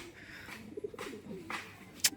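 Quiet, low pigeon cooing murmurs in the background, interrupted by a few brief soft rustles and a sharp click near the end.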